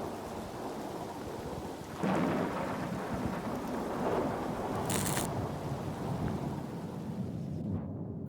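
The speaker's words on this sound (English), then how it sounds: "a second, an even bigger storm sweeps in from the west, delivering a spectacular light show and a lot more rain." A heavy thunderstorm rolls over an outback opal mine, with a second, bigger storm sweeping in from the west. Dense, steady rain roars throughout, and a deep thunder rumble swells near the two-second mark and carries on beneath the downpour.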